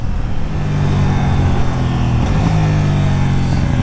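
A 2019 KTM Duke 790 motorcycle rolls along at low speed into a parking lot, its engine droning steadily and close with a slight rise in pitch partway through.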